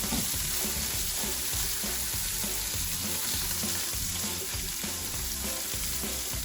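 Cauliflower florets fry steadily in a pan, a loud, continuous crackling sizzle with faint stirring scrapes, with no talking over it.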